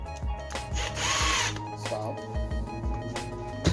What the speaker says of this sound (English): I'm gonna use the drill to bring it down as close as I can.